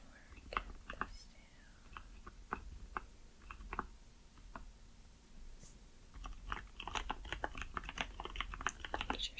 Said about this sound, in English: so I'm just typing that in.